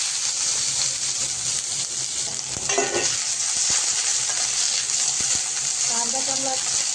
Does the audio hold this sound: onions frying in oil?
yes